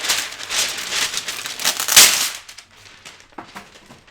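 Rolling pin pressing shortbread dough between sheets of baking paper, loud crinkling and crackling paper rustle up close, a sharp crunch midway, then quieter scattered rustles.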